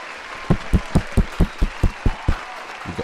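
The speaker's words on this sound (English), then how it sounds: "Give a round of applause for this man" During an interview, about a dozen slow, loud, evenly spaced claps ring out close by, one every quarter second or so, with a short gap before a final clap.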